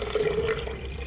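Water splashes and streams into a pot while simple syrup is being made, a steady close pour lasting about a second with no voices.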